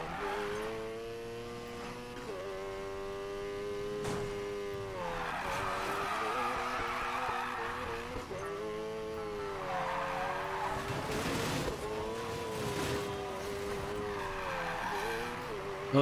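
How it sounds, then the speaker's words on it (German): In the Need for Speed Payback video game, a car drifts along canyon roads. Its engine whines steadily, rising and falling in pitch through repeated drift slides, with tire squeal mixed in throughout. "Ich liebe das Driften auf diesen Canyon-Straßen."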